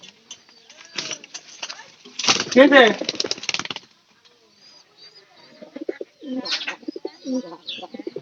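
A pet pigeon coos in soft, rolling bursts close by, with a louder warbling coo standing out amid intermittent movement and household sounds, and people talking around it.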